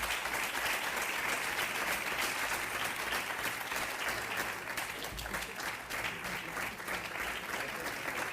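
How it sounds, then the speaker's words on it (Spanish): Audience applause at a public health talk in Sevilla, steady dense clapping filling the room for the whole stretch, moderately loud with no voices over it. "en agradecimiento, pues quiero un aplauso para ella"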